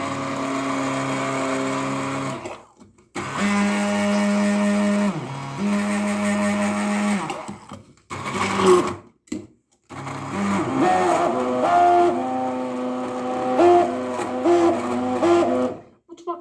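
A blender robot whirs through a watermelon milkshake with milk, running in several loud bursts with short pauses between and changes in motor pitch as the load shifts.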